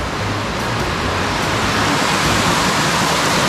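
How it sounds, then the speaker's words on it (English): Waterfall at Palatuvier Pond in Tobago, a constant broadband rush of falling water, close and loud, steady throughout with no voices. "Right, so that's the waterfall."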